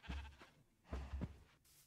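Sheep bleating in Minecraft, three or four short, quiet bleats in quick succession, close and clear with little else around them.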